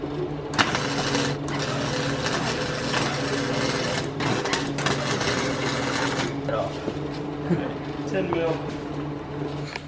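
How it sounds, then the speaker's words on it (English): A bolt is welded onto a stripped bolt to free a tank: steady, dense crackling buzz of the welding arc runs almost the whole time with a few sharp pops, while a voice talks over it. "we're gonna weld a bolt to the bolt that's stripped and then get this tank off"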